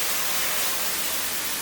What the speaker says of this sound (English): You're going to see that steam up like that.